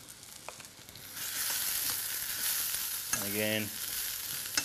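Shredded white and red cabbage frying with garlic in a hot pan, a steady loud sizzle with stirring scrapes and clatter, a brief spoken phrase partway through.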